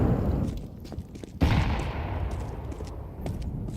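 HE grenade explosions in the Counter-Strike game during a PGL Cluj-Napoca tournament match: a sharp, heavy blast near the middle followed by scattered gunfire and rumbling, with several smaller pops before it.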